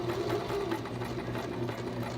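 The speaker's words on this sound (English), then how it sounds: "I'm going to carefully sew along my marked line" A sewing machine stitches along a marked line on fabric, its close, steady mechanical whir running evenly throughout with no talk.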